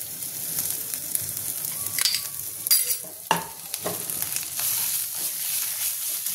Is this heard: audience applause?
no